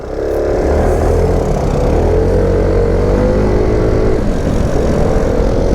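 A Zontes M310 motorcycle engine pulls hard under acceleration, its steady loud drone rising in pitch as revs climb, with a brief dip and recovery near the end amid wind rush.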